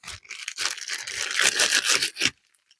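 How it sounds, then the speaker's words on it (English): A green plastic bag holding a t-shirt and other items is handled at close range, giving a run of crisp crinkling and rustling bursts that stop abruptly near the end. "You get this green plastic bag, and there's all sorts of stuff in this."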